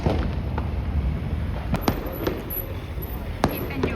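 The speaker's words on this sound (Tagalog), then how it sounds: "Wow, may fireworks." Scattered sharp pops and distant bangs of fireworks in Barcelona sound every second or so over a steady background rumble.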